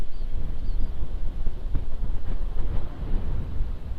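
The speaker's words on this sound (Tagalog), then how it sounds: "So itong hangin dito, grabe." Strong wind roaring steadily outdoors, a dense low rumble of gusts buffeting the microphone without pause, with no voices.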